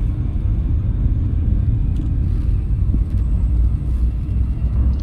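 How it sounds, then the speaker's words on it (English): A ship's frameshift drive charges up in the space game Elite Dangerous, a steady, loud low rumble that holds evenly throughout, with faint higher shimmer above it and no talking. "Frameshift drive charging."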